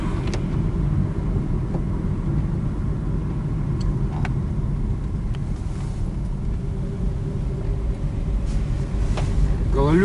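Car driving on an icy winter road on studded tires, a steady low rumble of engine and road noise from inside the car throughout, with faint scattered clicks over it.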